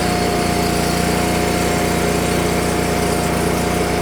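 A versatile yard machine's small engine idles loudly and steadily up close, a constant buzzing drone with no pauses or voices.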